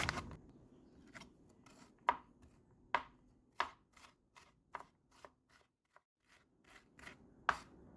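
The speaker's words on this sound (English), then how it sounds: "Here we're gonna dice up our onion really thin" A knife dices an onion thin on a cutting board, sharp crisp chops in an uneven rhythm with short pauses between them, close and fairly quiet, no talking.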